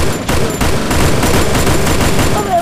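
Dense, continuous automatic gunfire from the Free Fire battle royale video game, loud and sustained throughout with rapid overlapping shots and no pauses.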